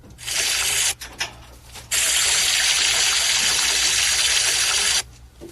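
Water gushes loudly from a broken pipe in a strong, steady roaring rush, cutting off briefly near the start, then pouring continuously before stopping abruptly near the end.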